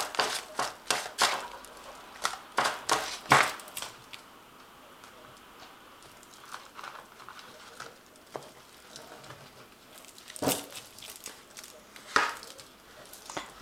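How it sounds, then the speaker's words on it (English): A Tarot of Dreams card deck is shuffled in bursts of quick, crisp riffling and tapping clicks. The clicks come in irregular clusters with quiet gaps between them, close up and fairly soft. "I have shuffled this deck."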